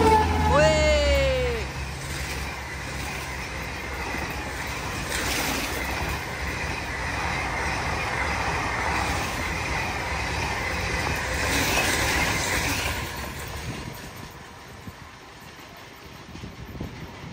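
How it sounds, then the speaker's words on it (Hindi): Ranchi Garib Rath express train overtaking an EMU at night, a sustained rumble and rolling clatter of passing coaches, steady for most of the pass before fading, with brief talk at the start. "रांची गरीब रथ ने ओवरटेक की है एमयू को"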